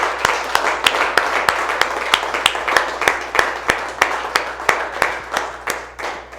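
A church congregation clapping to praise the Lord at an Easter resurrection sermon: loud, close, evenly spaced rhythmic claps in a steady beat under a wash of crowd noise.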